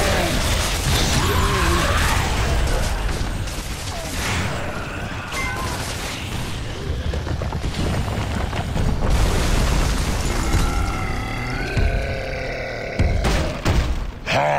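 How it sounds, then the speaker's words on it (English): Explosions in the video game Gears of War: Judgment: dense, loud booms and heavy rumbling with mechanical clatter that roll on continuously, along with brief voices. "We need to get out of here before it explodes."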